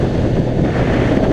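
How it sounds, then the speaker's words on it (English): Gusty crosswind buffets a rider on a Honda CBR600RR sport motorcycle, a loud, constant rushing roar of wind against the helmet microphone that drowns out everything else. "the wind's coming now from, it's gusty and it's coming from one side"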